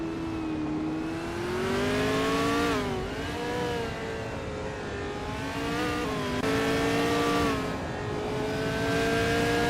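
A 1966 McLaren M10A race car in a racing video game holds a loud, steady engine drone with harmonic whine, rising and dipping in pitch through gear changes and throttle shifts.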